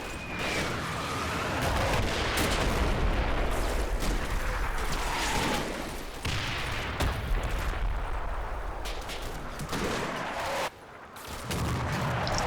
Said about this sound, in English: Timed with my heavy mortar barrage. But the barrage has gone long and it's falling behind the SS.